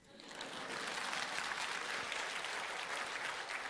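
A church congregation at a revival meeting bursts into dense, sustained applause that swells quickly and holds steady, a full roomful of clapping with no talk over it.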